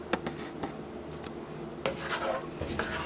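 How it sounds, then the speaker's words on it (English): A utensil stirs a plant-based pasta mixture in a pan, with soft scraping and rubbing plus a few sharp metallic clinks, quiet and close, busier toward the end, with no voices. "my pasta mixture into the same pan. And just make sure you mix it around real well"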